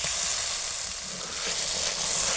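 Spices with nigella seeds and asafoetida fry in a pan for a peas kachori filling, making a bright, continuous close sizzle with a gentle stirring texture and no voices.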